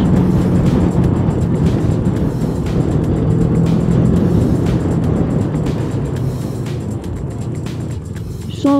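A 2023 Morini Seiemmezzo motorcycle engine drones steadily while riding, loud and continuous with strong low rumble and wind, easing slightly toward the end with no talk.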